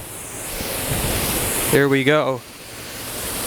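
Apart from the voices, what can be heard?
waterfall rushing in winter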